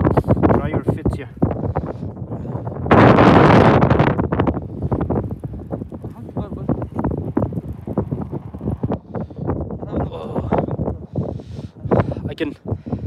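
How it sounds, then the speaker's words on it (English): Strong wind gusts across a remote, snowy Bhutan mountainside, a loud rushing roar surging hardest for about a second mid-clip, with a person speaking over the buffeting throughout. "the place is very, very windy."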